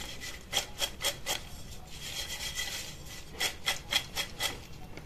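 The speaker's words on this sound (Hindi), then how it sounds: "ये देखिए इसका क्रंच सुनिए आप है ना एकदम क्रिस्पी एंड क्रंची" Rapid, close crunching and scraping of crispy fried corn, bursts of crisp rasps in quick rhythm with a brief lull in the middle.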